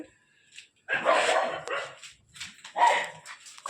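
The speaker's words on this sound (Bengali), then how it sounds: "কুকুরগুলো কুকুরগুলো ভুগতেছে" Dogs bark at night outdoors, fairly close, in two loud bursts of barking and yelping separated by short pauses.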